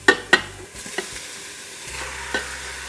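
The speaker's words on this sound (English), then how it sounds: "Now we're going to saute that for 5 minutes" Lamb sautéing in an Instant Pot, a quiet sizzle under a few sharp stirring clinks and scrapes of a utensil against the pot, close and without talk.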